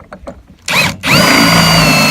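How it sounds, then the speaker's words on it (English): A power drill fitted with a 3/4 inch bit bores through the center of a rope dart spike. A few light knocks come first, then the motor whines up in two loud, close bursts that run steadily to the end. "So we're just going to use a 3/4 inch drill bit and just drill this right through the center."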